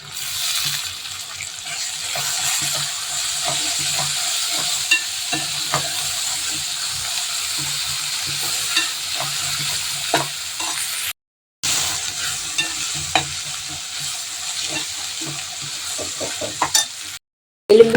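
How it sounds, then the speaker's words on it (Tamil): Ginger garlic paste and mint sizzle and fry in a pan as a spoon stirs them, with scraping clinks over steady close frying and two brief gaps of silence. "எப்பயும் போல் இஞ்சி பூண்டு பச்சை ஸ்மெல் போகிற வரைக்கும் நம்ம குக் பண்ணிக்கலாம் இதிலே கொஞ்சமாக புதினா போட்டுக்கலாம்"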